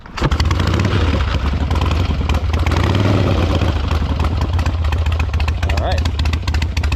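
1972 Harley-Davidson XLCH Sportster kickstarted into life, then idling loud and close with a steady, lumpy clattering beat, a voice talking over the engine.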